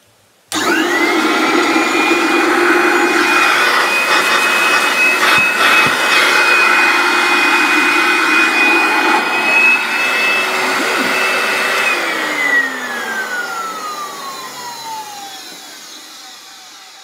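An old handheld Dustette vacuum cleaner switches on abruptly and runs with a loud, steady motor whine for about eleven seconds, then its pitch slides down as it winds to a stop. No one talks over it.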